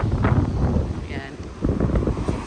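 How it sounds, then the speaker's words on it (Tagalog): Strong wind buffets the microphone on a street corner in Pasay near Mall of Asia, a loud continuous low rumble with gusty surges that drops briefly before returning. "lakas ng hangin guys"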